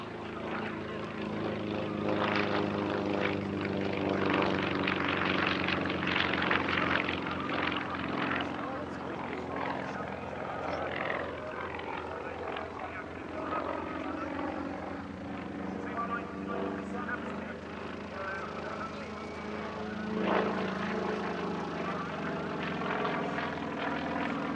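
A French-registered Yak 50 aerobatic propeller aircraft flies at an airshow at Duxford, its steady engine drone loud and continuous throughout with some fluctuation as it passes, under spoken commentary.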